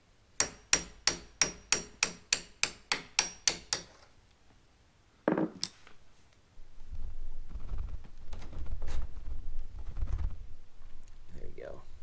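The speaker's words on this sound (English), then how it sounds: "I'm just going to tap it with the hammer just a little bit" A hammer taps a nail punch on a door hinge pin about a dozen times in quick, even succession, sharp ringing clicks, followed by a brief clatter and then low shuffling noise.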